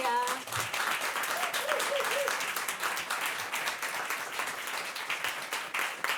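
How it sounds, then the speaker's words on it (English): Audience applause at a reading and fundraiser, a steady wash of many hands clapping that holds loud and dense throughout as a reader is welcomed to the stage, with a faint voice briefly heard early on. "Clap her up to the stage for Kamelya."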